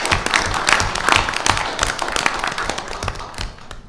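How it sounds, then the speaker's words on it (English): An audience at a county school board meeting gives a burst of close, lively applause for seven honored teachers, with dense clapping that slowly thins out. "Let's give these 7 teachers a round of applause"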